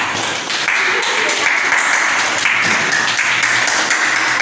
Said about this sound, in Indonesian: beri tepuk tangan dulu buat teman kita Mahira sama Andrea.